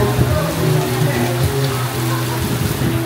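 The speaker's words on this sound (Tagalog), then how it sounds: "Sobrang lakas ng ulan." Heavy rain pours steadily outside a dining area in Boracay, a loud, continuous wash of drops with no pauses.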